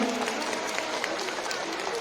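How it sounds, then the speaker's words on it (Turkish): A crowd bursts into steady, dense applause, clapping close and loud with voices mixed in throughout. "Alkış alkış daha güçlü."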